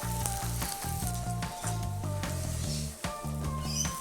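Garlic prawns sizzle steadily on a BBQ teppanyaki plate, a continuous close hiss and crackle, with faint music playing underneath.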